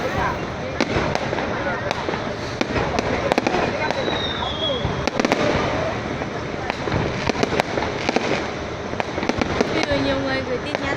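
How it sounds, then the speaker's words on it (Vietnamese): Fireworks and small firecrackers go off at night near a bridge in a dense, continuous barrage of sharp cracks and pops, both near and distant, while people talk throughout. "mấy thằng đốt pháo bé"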